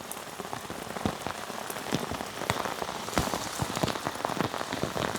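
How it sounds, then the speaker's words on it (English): Heavy rain pours steadily onto a garden while herbs are being planted, a dense continuous patter with sharp individual drops spattering close by and no voices. "Rain's coming down crazy"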